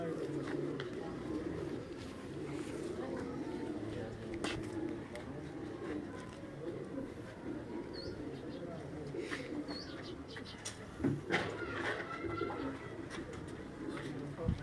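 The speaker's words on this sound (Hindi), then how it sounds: "ये भी सियालकोटी नस्ल का ही कबूतर।" Sialkoti breed pigeon cooing in low, repeated rolling calls on a rooftop loft in Quetta, Balochistan, with steady background murmur and occasional sharper sounds nearby.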